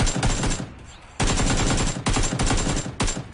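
Automatic gunfire sprays in the PUBG console shooter: loud, dense rattling bursts with a short gap, then a second long volley that ends in a few scattered final shots.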